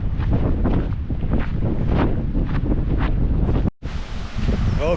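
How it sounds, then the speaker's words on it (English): Strong wind outdoors in Yellowstone National Park roars across the microphone in a steady, heavy rush with gusty swells, broken by one brief dropout near the end. "It's windy as shit."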